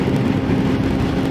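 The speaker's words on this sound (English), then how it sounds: "And voila, there's more cars coming." Several cars approach and pass along a straight road, a steady, fairly loud whooshing traffic rumble that holds without a break and with no voices.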